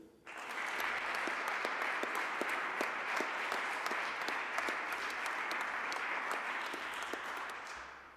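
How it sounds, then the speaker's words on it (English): An audience at a graduation ceremony gives a steady, full round of applause, with dense clapping that holds evenly for several seconds and then begins to taper off. "A big applause for Francesca Hesling."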